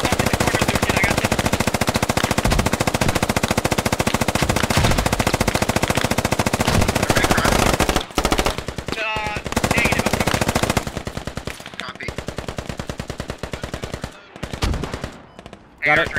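Sustained automatic gunfire in a Squad firefight during a compound-clearing assault, loud and dense bursts running almost nonstop, then breaking into shorter volleys with brief gaps, with occasional squad voices underneath.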